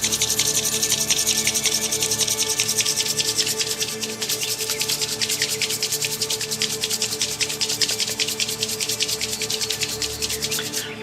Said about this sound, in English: just intensely rub these two hands together for a minute, like this